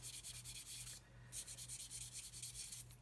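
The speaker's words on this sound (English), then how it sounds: "as long as our sanding stick's nice and flat" A flat sanding stick rubs back and forth on a plastic part from a 1/32 Airfix Humber scale model kit, producing close, quiet rhythmic scratchy strokes with a brief pause near the middle.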